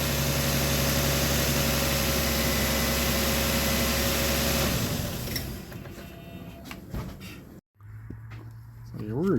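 A Lexus GS300 engine runs after a wiring repair, first as a smooth, steady close hum. The note then thins and shifts under scattered clicks and noises, with a short silent gap near the end.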